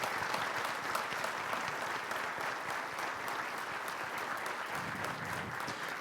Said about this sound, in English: And a round of applause, ladies and gentlemen, for Jonah Violet Super